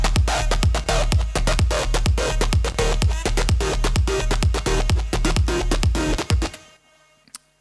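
Layered synth bass from an electronic dance track played together with a punchy kick drum, a steady four-on-the-floor thump driving a loud, dense bass groove that cuts off abruptly near the end, leaving quiet room tone.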